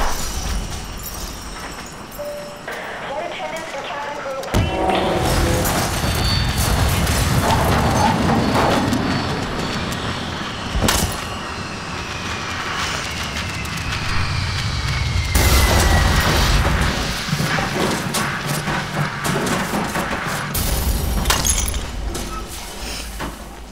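Plane crash in The Forest survival video game, a long chaotic sequence of booming impacts, shattering and crunching debris with several sharp hits and a sustained rumbling roar.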